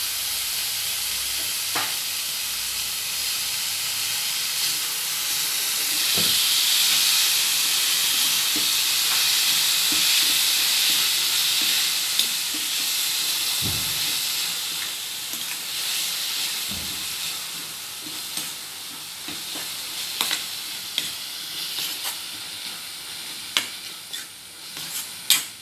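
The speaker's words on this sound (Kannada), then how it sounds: "ಕಟ್ ಮಾಡಿ ಇಟ್ಕೊಂಡಿರುವಂತ ಮೆಂತ್ಯ ಸೊಪ್ಪನ್ನು ಸೇರ್ತೇನೆ." Chopped fenugreek leaves are stirred and fried in a pan for a North Karnataka menthe palya, with a steady sizzle and hiss throughout, rising louder midway, broken by occasional spatula scrapes and taps.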